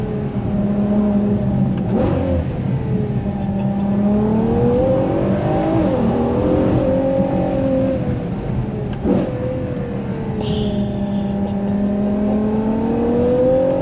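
A Ferrari Purosangue SUV engine revs and pulls repeatedly in a tunnel, cycling between first and second gear, its pitch climbing and dropping with gear changes, booming with a reverberant, enclosed echo.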